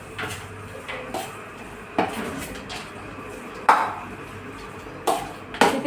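Beetroot ladoo mixture being mixed with pistachios in a bowl: a run of scraping strokes with several distinct metallic clinks of spoon on vessel, close and fairly quiet, with no talk.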